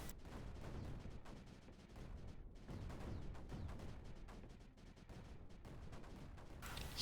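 Cannons and mortars fire continuously in the Creeper World 4 strategy game, a dense stream of quiet, overlapping thuds and crackling impacts rolling on for several seconds without pause.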